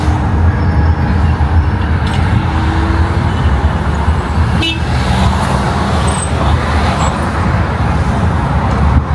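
Steady city traffic rumble in Kunming, China, with car engines passing nearby, and a short horn toot cutting through briefly near the middle.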